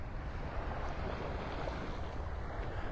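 Ocean surf at Delnor-Wiggins beach in North Naples, Florida, as the tide comes in: a steady, broad wash of waves with wind rumble on the microphone and no distinct breaks.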